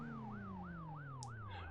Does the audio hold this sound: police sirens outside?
yes